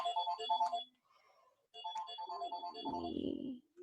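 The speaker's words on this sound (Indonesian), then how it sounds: "aduh ada telepon lagi ya" A phone ringtone sounds for an incoming call, a bright repeating melodic tune that plays in two bursts with a short gap between them, heard close and clear.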